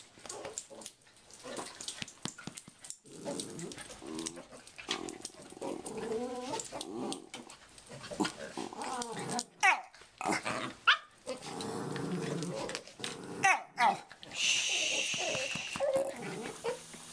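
Several dogs playing together, with bursts of growling, snarling and scuffling mixed with soft whimpers, intermittent and close, quiet overall with louder spikes near the end.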